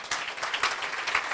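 Brief burst of audience applause at a celebration honouring a congressman, dense overlapping claps forming a steady patter.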